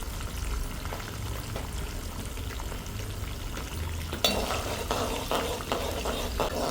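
Pasta going into hot oil in a home kitchen pan gives a steady, close hiss of sizzling and bubbling, with a sharper spatter burst partway through as more goes in.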